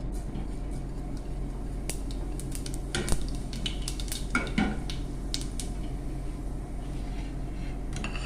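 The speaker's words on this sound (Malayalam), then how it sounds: "ഒരു രണ്ട് രണ്ട് വലിയ സ്പൂൺ എണ്ണ ചൂടാക്കി അതിലേക്ക് പെരിഞ്ചീരകം പൊട്ടിക്കാം" Fennel seeds crackle in about two large spoonfuls of hot oil in a pan, the first step of an egg curry, giving scattered sharp pops and clicks over a steady low hum.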